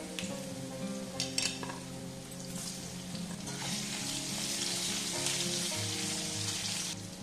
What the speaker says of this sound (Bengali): ওলকপি আর আলুটা খুব ভালো করে ভেজে নিতে হবে